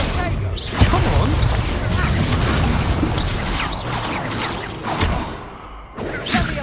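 Expulso spell blast in a Hogwarts Legacy wizard duel: a loud booming crash with whooshing bursts, repeated impacts over a dense, busy game soundscape.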